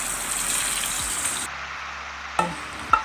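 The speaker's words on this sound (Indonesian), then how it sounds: "Kemudian bahan sambal digoreng, gorengnya jangan terlalu matang." Sambal ingredients fry in hot oil with a bright, crackling sizzle that cuts off midway, followed by a couple of sharp stirring clinks against the pan.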